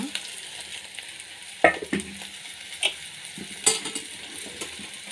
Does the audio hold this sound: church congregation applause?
no